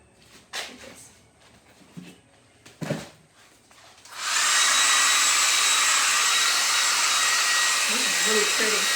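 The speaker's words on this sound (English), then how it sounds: "I'm going to blow dry this with a blow dryer." A hair dryer blasts loud and steady, drying paint on an abstract painting, starting abruptly after a few soft taps and rustles and then holding a constant whooshing roar to the end.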